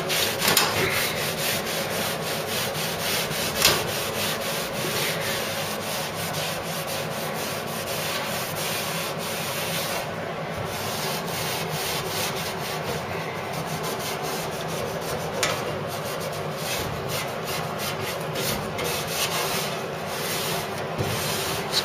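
The wheel housing panel of a Ford Cortina Mk3 is rubbed down and cleaned by hand, giving a steady, close, continuous rasping scrub that goes on without pause.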